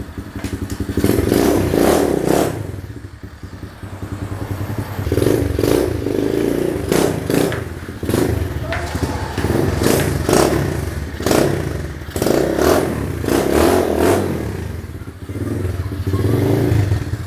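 An HSX 110 mini trail motorcycle with a manual clutch, ridden for grasstrack-style use, revs up and eases off again and again, its loud buzzing engine rising and falling in repeated bursts, with occasional clattering thumps over rough ground.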